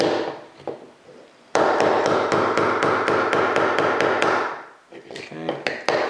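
A hammer strikes a punch to drive roll pins into a pistol trigger assembly, giving rapid, evenly spaced sharp metallic taps in a close burst, then a few scattered taps as it quiets.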